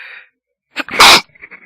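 A single loud, close sneeze bursts out after a brief lull, preceded by a faint earlier sound and followed by soft trailing noises.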